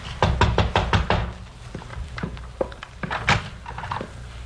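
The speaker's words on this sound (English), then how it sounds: "so I walked around back and knocked on the door." Someone knocks on the back door of a frame house, starting with a quick run of firm raps and then slower, scattered knocks and thumps, close by.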